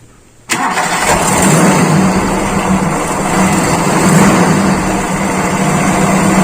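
A Toyota Kijang Super engine cranks and fires after a quiet start, then settles into a loud, steady running rumble close by for several seconds, with no talking over it.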